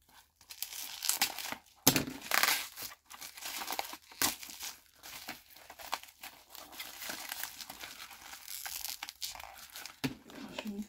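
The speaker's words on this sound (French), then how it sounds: "Attendez, j'enlève le papier bulle." Bubble wrap being pulled off and unwrapped from a parcel, with close, bursty crinkling and rustling and some tearing of plastic and tape, continuous over several seconds with brief pauses.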